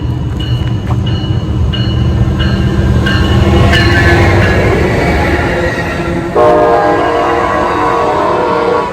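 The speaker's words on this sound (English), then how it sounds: "These trains come here." A train rolls past close by, a steady loud rumble of railcars with the horn sounding partway through, and no talking is heard.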